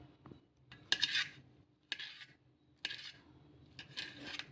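A knife slices bananas into thick pieces, giving about five crisp taps on a cutting board at slightly uneven intervals, with quiet rubbing in between and no speech.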